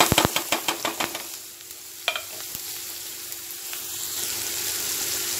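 Onions drop into hot oil with ginger and green chilies, a burst of sharp clatters at first that settles into a steady, close frying hiss, with no talking.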